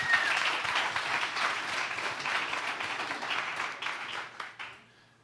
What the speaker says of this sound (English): Chris Keathley, warm round of applause.